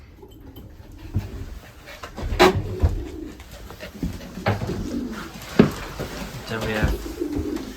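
Racing pigeons coo softly with low, throaty calls at close range, while someone speaks briefly and there are some scattered bumps and movement around the loft.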